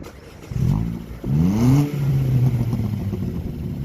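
A Vauxhall Astra H 1.4 SXi with the rear exhaust backbox removed revs hard twice, then falls back to a deep throaty idle. Its loud exhaust note crackles and pops nearby.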